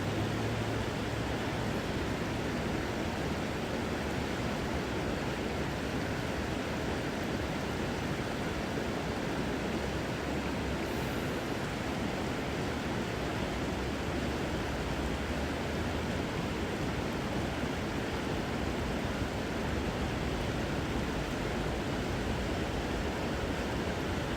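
A river flows steadily nearby, a dense, continuous broadband rush of water that holds evenly for the whole stretch with no voices over it.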